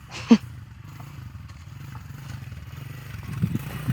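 A dirt bike in second gear rides over rocks on an off-road obstacle course, its engine rumbling low and steady with a sharp clatter near the start and the engine note swelling toward the end.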